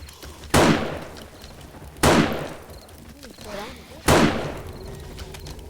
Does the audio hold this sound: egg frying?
no